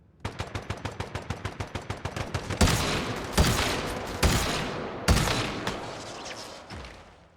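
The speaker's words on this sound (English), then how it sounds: "Dude's using a grenade launcher." In the Once Human video game, a rapid train of near gunshots fires first. A grenade launcher follows with several heavy, booming blasts that ring out and fade.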